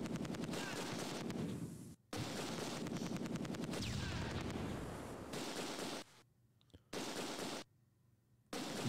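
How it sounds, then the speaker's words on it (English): Mortar rounds exploding amid battle noise in the WWII strategy game Close Combat 2 at Arnhem, with dense rolling blasts and crackling fire that drop out briefly to near-silence twice near the end. "Those mortar rounds are not falling on it."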